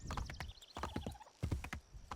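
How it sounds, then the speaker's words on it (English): Horse hooves clip-clopping in the video game Assassin's Creed 3 as a black horse is ridden, a quick uneven run of soft thuds heard close and fairly quiet. "We only ride black horses in this game."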